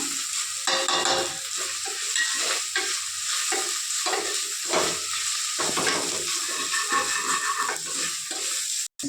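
Masala and garlic paste sizzle and fry in a pan for talakaya curry, with a spoon stirring and scraping in an irregular rhythm, loud and close, with no talking.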